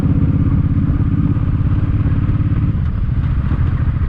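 A Suzuki M50 motorcycle engine runs steadily and loudly through the upper gears, a continuous close-up drone with a slight rise in pitch as it shifts, and no talking over it.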